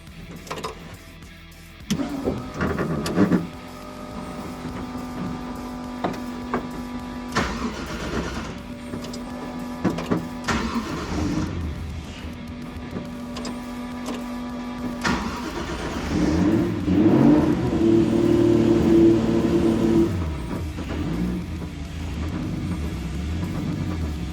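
A Porsche 944 fitted with a Supra engine cranks and fires, idles with some clunks and handling noises nearby, then revs and pulls away, the engine note rising steadily as it drives off.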